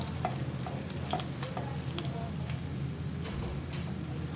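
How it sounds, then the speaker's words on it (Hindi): Chicken shami kababs frying in oil in a pan, a soft steady sizzle with faint ticking spatters and occasional spoon clinks, close but quiet. "अब हम जो है एक चम्मच की मदद से ऊपर की सतह जो है कबाबों की, उनके ऊपर ऑयल डालेंगे।"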